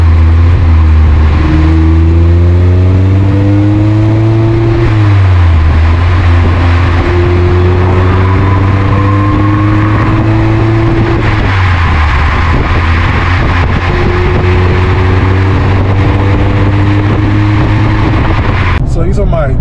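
A 2023 Mazda MX-5 Miata engine drones loudly from inside the cabin as it accelerates through several gear shifts, pitch rising and dropping with each change, with people talking over it.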